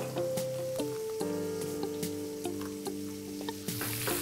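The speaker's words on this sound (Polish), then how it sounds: "czas najwyższy dodać olej, żeby kotlety były dobrze przysmażone i tłuste" Cutlets frying in oil in a pan, a steady close sizzle with crackling pops and a few utensil clinks over a faint hum, no voices.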